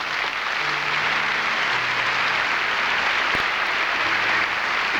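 An audience in a church applauding, producing a steady, dense wash of clapping that fills the whole stretch at an even level, with faint voices murmuring underneath.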